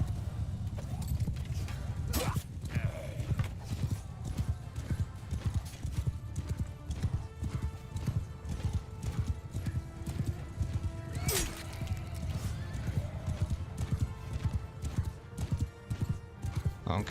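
Horses gallop in a steady clip-clop of hooves during a Mount & Blade II: Bannerlord cavalry battle, with occasional neighs and whinnies over continuous battlefield noise for the whole stretch.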